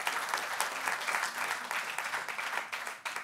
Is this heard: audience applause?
yes